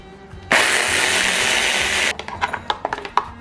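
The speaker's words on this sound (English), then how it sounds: "And now we're going to just grind it up and give us ourselves a taste test." A blender grinding baba ghanoush, roasted eggplant with olive oil, starts abruptly and whirs loud and steady for about a second and a half, then stops, followed by a few clattering knocks.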